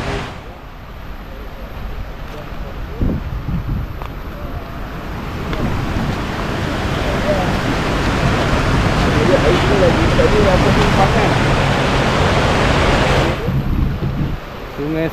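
River water rushes steadily and broadbandly near a campsite on the Selama river, swelling louder through the middle, with wind buffeting and brief voices underneath.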